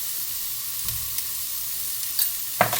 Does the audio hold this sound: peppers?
yes